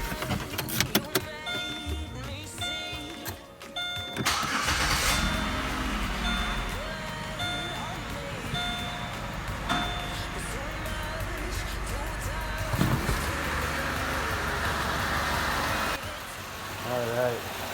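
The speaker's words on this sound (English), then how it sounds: "we're going to go ahead and give this vehicle a start and see how it reacts to the clean mass airflow sensor" A GM vehicle with a freshly cleaned mass airflow sensor cranks and starts, then settles into a steady idle close by, with a person talking intermittently over the engine.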